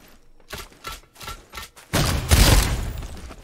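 Gunshots ring out in Naraka: Bladepoint, with a handful of spaced sharp shots followed by a louder, sustained volley close by.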